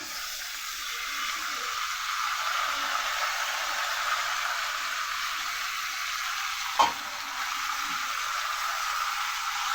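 Mixed vegetables with malabar spinach fry in a pan with a steady, even sizzle and hiss, broken once by a brief sharp clatter near the end.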